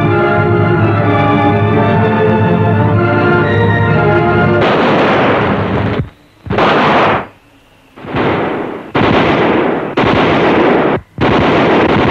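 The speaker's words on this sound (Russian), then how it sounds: "Надюша стреляет." Gunfire rings out in a snowy 1955 Soviet adventure film as a woman shoots, loud booming bursts separated by brief silences, following a stretch of orchestral music.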